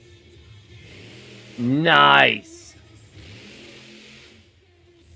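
A truck engine revs hard in one loud surge lasting under a second over a low idle at a motorsports show in Miami, Oklahoma, with a voice exclaiming briefly.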